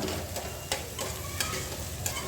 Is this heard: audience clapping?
no